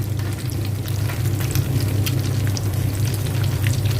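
Steady, loud sizzling of food frying in hot oil, with crackles and pops throughout and no voices.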